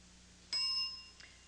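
A game show bell signalling the start of a round rings once, clear and bright, over a low steady hum, then fades with a faint second touch.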